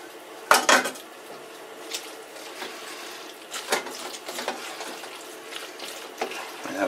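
Bacon, chicken and mushrooms poured into a pot for creamy mac and cheese: a loud clatter of metal and utensils near the start, then softer scattered knocks and scrapes of cookware continuing throughout, with no talk.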